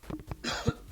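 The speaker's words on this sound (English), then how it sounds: "coughing noises" A short burst of coughing from a soundboard, a few quick throaty coughs close up, played on its own.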